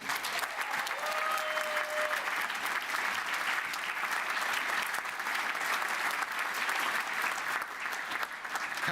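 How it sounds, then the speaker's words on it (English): Steady, dense applause from a large audience at a university graduation ceremony continues evenly for about nine seconds, with no voices over it. "I think we need another round of applause."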